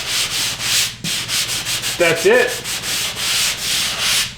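Rhythmic back-and-forth scraping of hand sanding drywall joint compound on a factory joint, steady strokes with a brief spoken comment partway through.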